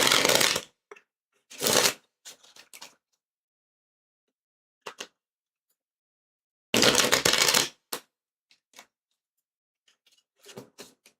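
A deck of oracle cards is shuffled in a few short, separate bursts of crisp riffling and tapping, close and clear, with near silence in between.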